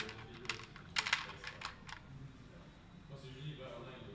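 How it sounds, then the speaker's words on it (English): Keycaps being pressed onto a Kyubi keyboard build give a run of short, sharp clicks and taps clustered in the first two seconds, close and fairly quiet, followed by softer handling sounds and faint background talk. "It's better to install the keycaps first."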